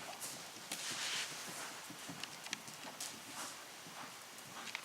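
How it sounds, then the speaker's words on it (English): A horse's hooves thud in a quick repeated rhythm as it canters through a warm-up in an arena, faint and somewhat distant, with soft background noise and no talk. "So a little canter warm up yet?"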